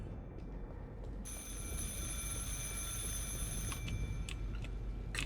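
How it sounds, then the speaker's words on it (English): An old-style telephone bell rings steadily inside an apartment scene in the video game The Alien Cube, a continuous trilling ring over a low background rumble, with no one talking. "Why is there a ringing phone?"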